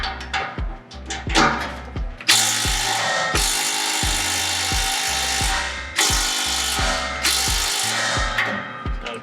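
A ratchet works 15 mm exhaust hanger bolts loose on a 2008 Ford F150, with rapid clicking strokes broken by several long, loud mechanical bursts, all heard close and clear.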